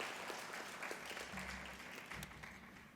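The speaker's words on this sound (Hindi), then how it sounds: "जोरदार तालियों के साथ स्वागत कीजिए श्री आदिल रशीद जी का" An audience at a kavi sammelan poetry gathering at Pune International Centre applauds to welcome a poet, a brief burst of moderate clapping heard from a little distance that fades slightly toward the end.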